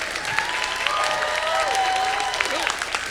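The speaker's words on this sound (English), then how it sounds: "let's give him a big round of applause" A fan convention crowd at a Q&A session applauds voice actor Kirby Morrow. Dense applause fills the hall, with a few whoops and cheering voices rising above the clapping.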